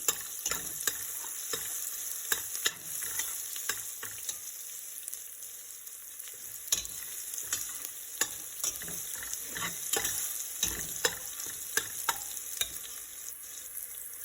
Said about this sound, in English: we have to fry this garlic until the raw smell gone